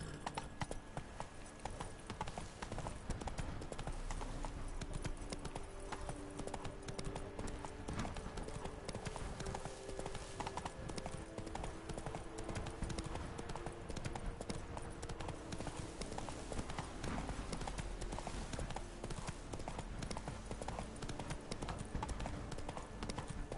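Continuous clip-clop of Roach the horse's hooves in The Witcher 3, a fast steady gallop rhythm over a dense layer of game ambience and music.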